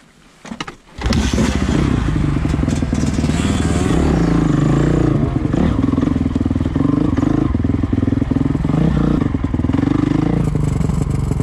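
A motorcycle engine runs loud and close, a steady rough drone with clattering, popping edges throughout, after a brief quiet start.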